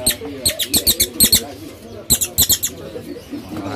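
Birds at a bird market, both imported and local, give bursts of rapid, piercing chirps in two clusters, loud and close, with low voices chatting underneath.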